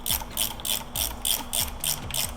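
A ratchet tightening bolts on the seat of a Triumph Bobber motorcycle, giving a rapid, even series of clicking bursts in close-up with no voices over it.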